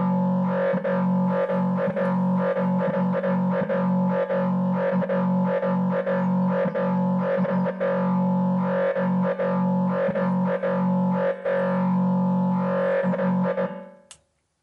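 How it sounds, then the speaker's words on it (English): A Korg Volca Modular synthesizer runs a self-generating random gate patch, playing itself as a dense, buzzing stream of rapidly gated, distorted tones in irregular bursts, loud and steady until it cuts off at the end. "This is a self-generating sound called self-generating random gate. It sounds like this."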